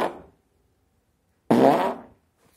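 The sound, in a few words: voice imitating a fart, muffled through a shirt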